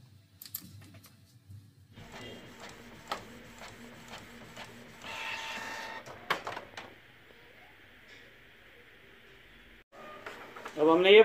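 A printer runs a tattoo stencil sheet through, whirring and clicking steadily for several seconds, then a louder rush as the page feeds out, heard close with some faint background speech.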